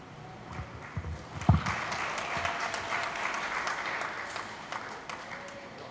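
Wedding guests applaud right after the bride and groom's kiss, a steady, dense round of clapping from a crowd that fills the whole stretch, with faint cheers mixed in.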